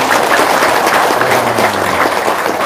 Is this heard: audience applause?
yes